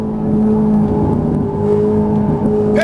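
A Ferrari 458 Italia on a race track carries a steady, loud engine drone at high revs with a slight pitch change as the throttle is squeezed.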